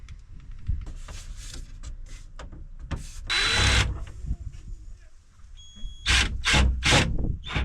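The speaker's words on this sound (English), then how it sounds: "Let's drill some holes" A power drill bores holes into a camper van cabinet frame in short bursts, each whine rising then stopping with pauses and handling noises between.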